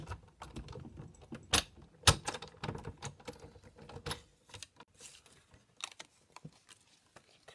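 Scissors cutting stamped paper pieces for a handmade card, close crisp snips and rustling paper in an irregular run, louder at first and then softer and sparser.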